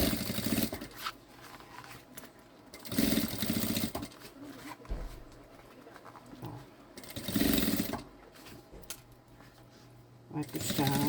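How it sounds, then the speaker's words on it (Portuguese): Sewing machine stitching all the way around a synthetic backpack, heard in several short, loud bursts separated by quieter stretches of handling and a voice speaking. "você vem aqui e passa uma costura nas duas, em toda a volta"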